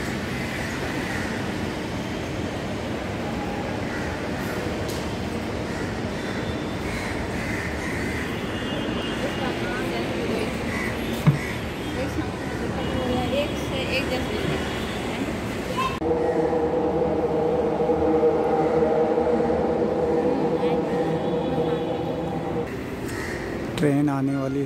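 A Delhi metro train arriving at a station, a long rising rumble and rolling wheel noise that swells louder and then settles into a steady hum and tonal whine, with people talking throughout.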